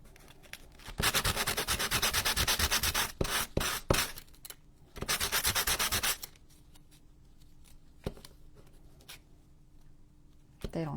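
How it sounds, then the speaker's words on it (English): Ends of small wooden pieces for a Halloween book nook vignette are sanded by hand in two loud, close bursts of rapid rough strokes, each lasting a few seconds. Quieter scrapes and taps follow, and there is no talk. "I'm going to just sand these ends."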